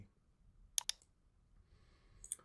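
Two quick sharp computer mouse clicks close together, then a third single click after a quiet stretch, crisp and close in a quiet room while a design is confirmed with OK.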